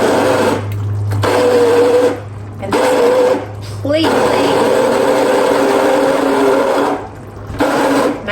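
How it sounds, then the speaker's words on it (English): An immersion blender purees chili beans in a pot, its loud motor whirring in several bursts with short stops between them, while a person talks over it. "I'm going to use my nice immersion blender, and I'm going to put this in here, and I'm going to puree every bit of this."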